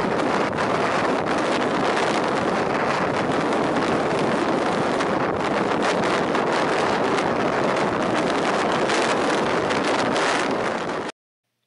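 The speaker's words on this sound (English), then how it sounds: "The wind was so horrendous at this point" Strong gusty wind buffets the microphone outdoors in the Peak District, a loud continuous roar with rumbling low end that fills the whole stretch and cuts off abruptly at the end.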